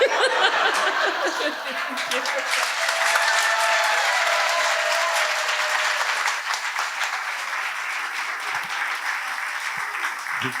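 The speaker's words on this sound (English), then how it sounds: "Give Lori a big round of applause" A crowd applauds loudly and steadily, with a few laughs and whoops mixed in, slowly tapering near the end.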